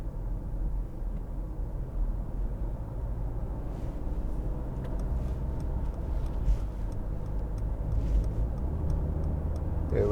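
A 2015 Mercedes-Benz C200 C-Class with a 1.6-litre engine accelerating on the road, heard from inside the cabin as a steady low engine rumble with road noise, fairly loud and continuous, with no talking.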